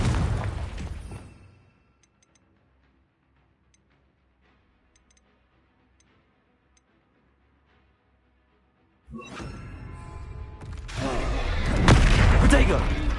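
Confringo fire spell in Hogwarts Legacy, a sharp blast that fades over a second or two, then near silence, then a second loud roaring burst of magical energy swelling toward the end.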